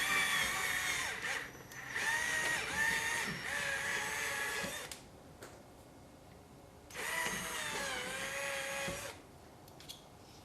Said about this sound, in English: I'm going to use a 1/4 inch drill bit